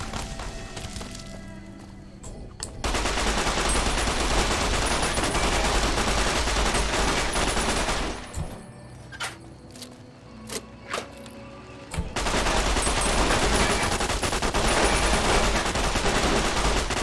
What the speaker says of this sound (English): Left field artillery launch.